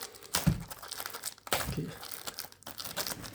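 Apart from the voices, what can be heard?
tearing open paper wrapping of a card display box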